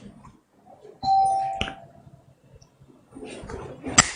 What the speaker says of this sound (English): Someone ringing the bell.